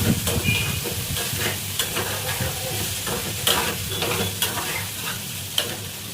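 Andhra-style potato fry being stirred in a pan, with a spatula scraping and clattering in repeated strokes over a steady sizzle of frying, close and fairly loud, with no voices.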